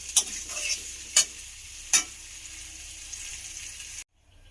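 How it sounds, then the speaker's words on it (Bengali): Water goes into a pan of frying ground spice paste for a fish curry: a steady sizzle broken by three sharp hissing bursts, then sudden quiet. "তো আমি এর মধ্যে এবারে জল দিয়ে দেবো"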